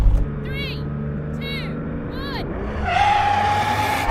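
A 3000 hp Nissan Patrol drag-racing against a Ferrari SF90 bounces off its rev limiter in three sharp, repeated chirps over a steady engine drone, then the engine note rises into a strained whine.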